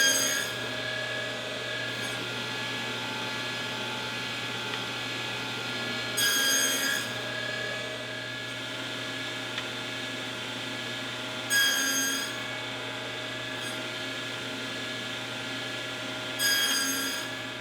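Table saw with a box joint jig cutting fingers into wooden side pieces, a steady loud machine whine running throughout with three brief bursts of cutting noise at regular intervals.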